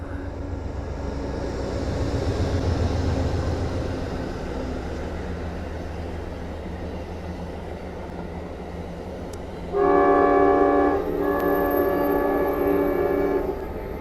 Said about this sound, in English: This is a southbound train heading to Richmond, Virginia.